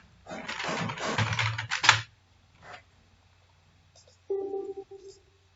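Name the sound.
typing a name on a computer keyboard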